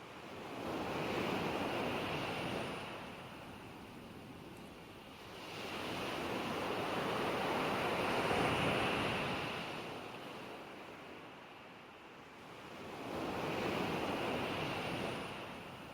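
Ocean waves in a sound art piece, three slow, broad swells of surf rising and receding in a steady cycle, loud and wind-like with no other sounds.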